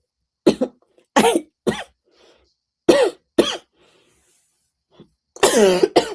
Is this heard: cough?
yes